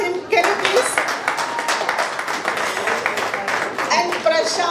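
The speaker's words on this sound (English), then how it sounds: "So we need to clap for him." Clapping from a crowd at a high school batch reunion, irregular hand claps with voices and chatter mixed in and running over them throughout.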